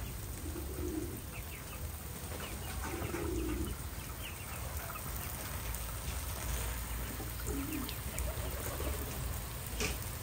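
Pigeons kept by a Vietnamese farmer give low, soft cooing bursts in a few short phrases, set against steady outdoor background noise with no talking.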